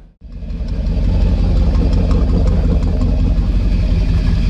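A 1978 Ford Bronco engine starts and settles into a loud, steady, close rumbling idle that holds throughout.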